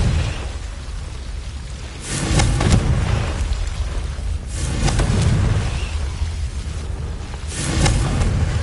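Confringo blasting spell in Hogwarts Legacy gives three deep, rumbling explosion bursts spaced a few seconds apart over a constant noisy game backdrop, with no speech.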